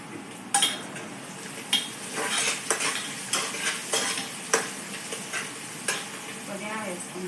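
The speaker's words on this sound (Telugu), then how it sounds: "ఉల్లిపాయలు ఫ్రై అయినాయి." Onions frying in a pan on a stove for biryani, with a soft sizzle under repeated scraping stirs and occasional sharp metal clinks of a spoon against the pan.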